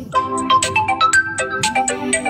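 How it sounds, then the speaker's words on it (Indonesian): A phone ringtone plays loud and close, a bright melodic electronic tune with quick rising and falling notes repeating steadily, with no talking over it. "Itu ada telepon kah?"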